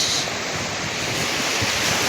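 Ocean surf at Cox's Bazar beach roars continuously, a broad wash of breaking waves mixed with wind buffeting the microphone, with no voices.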